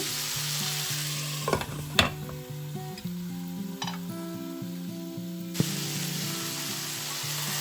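Dried anchovies stir-frying in a pan give a steady close sizzle, broken by a few sharp clinks and scrapes of the spoon against the metal, with no talking.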